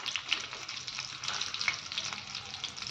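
Dry red chilies, garlic cloves and chana dal fry in hot oil, giving a soft, continuous sizzle with scattered small pops and crackles, fairly quiet and close, with no voices.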